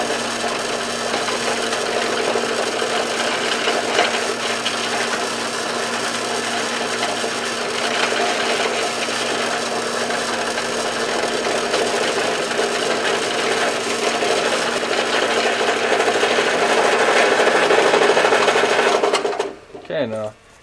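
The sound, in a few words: drilling holes in wood for a fingerboard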